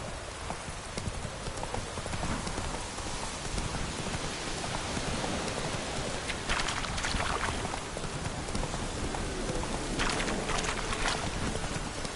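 Horse galloping in the Witcher 3 video game, rapid steady hoofbeats under a dense wash of rain, loud and continuous with no talking.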